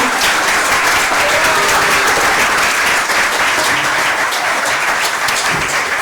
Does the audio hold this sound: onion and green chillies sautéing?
no